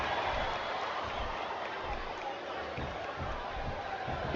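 A wrestling arena crowd in Smackdown Vs Raw 2007 murmurs and cheers at a low, steady level, a distant wash of noise beneath commentators talking.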